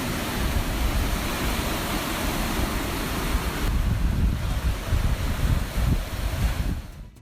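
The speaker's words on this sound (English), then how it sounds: "Michigan Lighthouse struggles against giant waves seemingly being swallowed by the sea." Giant waves pound a Michigan lighthouse in a storm, a loud, continuous roar of crashing surf mixed with heavy wind buffeting the microphone, with no voices.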